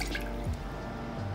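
Hinoki-infused vodka poured into a small measuring jigger for a sour cocktail, a short close trickle of liquid with a few drips, heard alone without talk.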